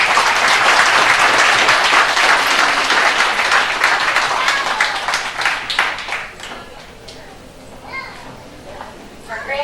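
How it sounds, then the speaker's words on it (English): Audience applause at a 4-H fitting and showmanship event, loud sustained clapping that gradually fades, with children's voices and chatter under it and a few scattered claps at the end. "I think they all deserve a round of applause."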